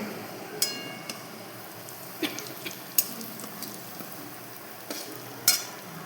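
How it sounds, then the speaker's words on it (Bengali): Onions browned in a pan sizzle softly and fairly quietly, with a handful of spoon taps and scraping clicks scattered through the low hiss. "আমার পেঁয়াজগুলো লাল করে ভাজা হয়ে গেছে"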